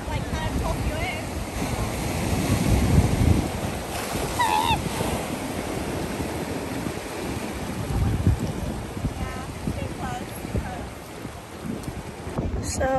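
Ocean waves break and wash continuously on a Hawaii beach, with surges of surf and steady wind buffeting the microphone, and brief voices faintly mixed in.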